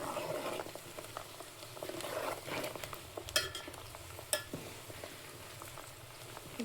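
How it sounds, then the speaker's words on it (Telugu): Curry leaves dropped into hot oil in a pan while making a homemade hair oil, producing a continuous sizzle and crackle with scattered stirring scrapes and a couple of sharp clinks, with no talking. "అది అయిన తర్వాత నేను దీంట్లో కరివేపాకు వేస్తున్నాను."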